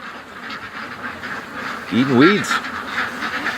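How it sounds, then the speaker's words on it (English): Ducks around a yard near a creek give one short burst of quacks midway while someone talks over outdoor background noise. "the ducks are basically just staying in the yard here"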